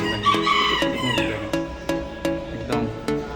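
Small Serama chickens calling in a close, loud mix of clucks and a crow-like call, with sharp repeated pulses roughly every third of a second over busy background sound.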